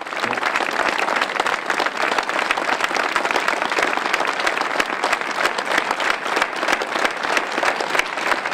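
A crowd in Allonnes applauds teachers and school staff at a tribute to murdered teacher Samuel Paty, a thick, even wash of many hands clapping continuously at steady volume throughout.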